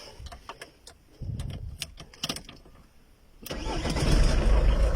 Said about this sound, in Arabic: حنا ديمارينا الموتور سخون، الموتور درت بها دوره